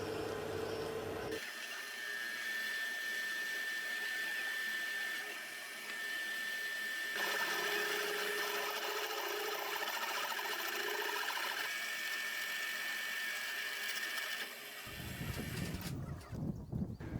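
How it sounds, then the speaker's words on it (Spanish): Drilling through two stacked steel plates with a 7/8 drill bit, a sustained high whining grind with a steady tone that rises in intensity midway, close and continuous. "vamos a perforar con una broca de 7 octavos. Vamos a perforar las dos chapas"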